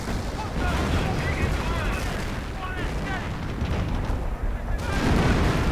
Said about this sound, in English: More artillery getting called in a desperate bid to keep that victory point safe.